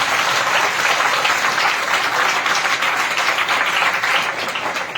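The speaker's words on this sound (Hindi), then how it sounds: "आइए जोरदार ताली परमेश्वर के लिए बनाएं" A church congregation bursts into loud, sustained applause, dense clapping filling the room evenly from start to finish.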